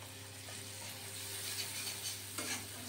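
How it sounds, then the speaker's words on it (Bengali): Chopped onions frying in a pan, a faint steady sizzle over a low hum, with a few soft stirring scrapes and a light clink near the end. "মোটামুটি আমার পেঁয়াজগুলো রীতিমতো ভালো করে ভাজা হয়ে"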